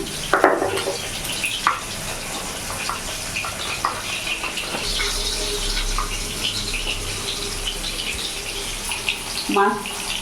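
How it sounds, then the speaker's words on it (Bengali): Running water pours steadily over a hard surface, with scraping and a few clunks of a flat grinding stone being rinsed nearby. "একটু শিলটা ধুয়ে আমি নিয়ে নিলাম"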